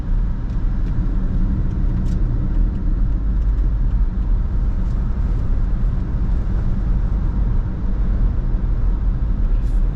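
Haval H6 GT hybrid car accelerating hard on a test track, a steady, loud engine and road rumble holding constant throughout without any talk.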